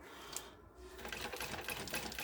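A sewing machine stitches binding around the edge of a fabric bag, running in quiet, rapid bursts with a brief pause before resuming its steady mechanical chatter.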